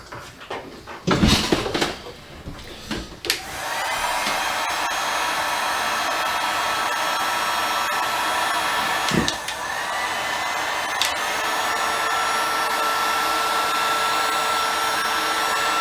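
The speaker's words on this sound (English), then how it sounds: "Now we'll take our heat gun." A heat gun blows a steady, loud whooshing roar while it dries a freshly refinished gun stock, running continuously after a few knocks and handling thumps at the start.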